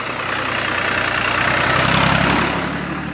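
Tractors run at an agricultural cooperative, a loud steady engine drone with a low rumble that swells slightly and then eases, no voices.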